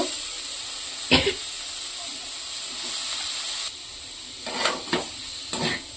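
Deboned fish pieces with spice powder and salt fry in a pan for fish fingers, giving a steady close hiss and sizzle. A few clattering stirs break through, and a voice talks over it.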